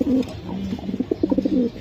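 Pigeons coo in a quick series of soft, throaty calls close by, several rolling notes in succession with no voices over them.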